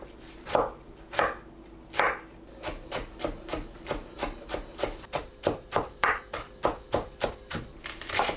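A knife chops tomato small on a cutting board in quick, even strokes that speed into a steady run of crisp, close knocks.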